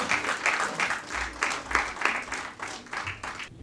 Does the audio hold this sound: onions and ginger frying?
no